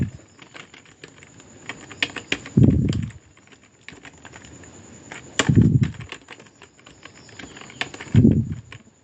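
A computer keyboard taps out a plugin name in steady light clicks, close and moderately quiet, with a few heavier thumps mixed in at intervals.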